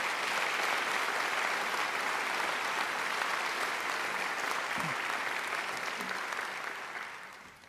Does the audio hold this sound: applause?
yes